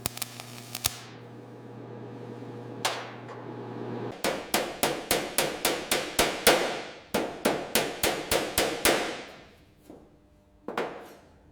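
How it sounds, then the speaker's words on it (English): Planishing hammer strikes reshaping the brass cowl of a 1903 De Dion-Bouton, a fast run of about a dozen sharp, ringing metallic blows in steady rhythm, with a few scattered hits before and after, close and clear with no talk. "carefully reducing the imperfections with the planishing hammer"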